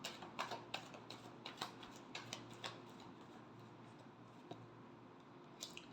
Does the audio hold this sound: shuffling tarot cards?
yes